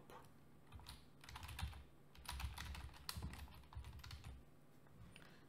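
Fingers type on a computer keyboard in quiet, uneven runs of soft clicking keystrokes, close and faint, with no talking.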